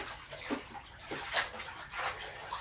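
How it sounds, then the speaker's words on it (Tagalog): Clothes are rinsed by hand in a tub of warm water, giving soft, intermittent splashes and sloshes in an irregular rhythm, close and fairly quiet with no talk. "Isang banlaw na lang tayo, guys."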